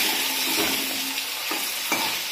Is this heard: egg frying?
yes